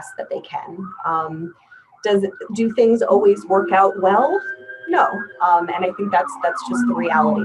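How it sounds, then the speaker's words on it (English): Emergency vehicle sirens wail outside a hospital, a rising and falling tone that is partly masked by a nearby voice talking over it. "Please excuse the sirens."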